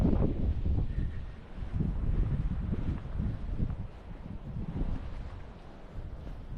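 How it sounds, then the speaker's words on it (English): Strong gusting wind buffets the microphone on a beach in Bundaberg, with low roaring surges that rise and fall continuously and no voices. "it's a very windy day"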